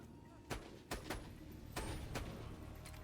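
An enemy fires slag rounds in a video game: several sharp gunshot cracks in an uneven rhythm, each with a brief ringing tail, over a low steady background as a voice talks.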